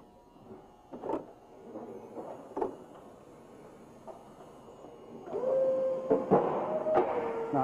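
Forklift with a push-pull attachment handling a pallet of Coors beer at a distributor: mechanical clunks and knocks, then a louder hydraulic whine with a steady rising tone and rattling toward the end.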